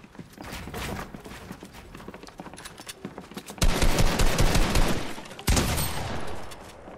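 Rapid gunfire in the video game Fortnite: quick clicking shots build into two loud, dense bursts of fire near the player, cut off abruptly between them.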